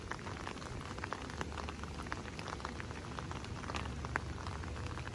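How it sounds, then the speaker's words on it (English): Steady rain falls outdoors during a walk through a lit-up Christmas village display in Wildwood. It makes a dense, even hiss with scattered drips and patters throughout, and no one speaks. "It's still raining, but this is just too beautiful"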